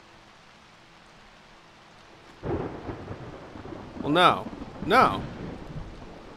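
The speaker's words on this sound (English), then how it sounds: "Oh, and it's raining too." Rain falling in the Skyrim video game, a steady patter with thunder-like rumbles beginning partway through, while someone speaks briefly over it.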